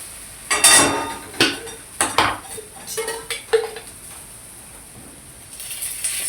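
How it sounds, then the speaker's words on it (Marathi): Cluster beans turning in hot oil in a pan, with a metal spoon scraping and clinking against the pan in short bursts over a faint sizzle. "तेल सोडायचं आणि एकसारखं हलवत राहिलं की सगळी गवारी आपली भाजते."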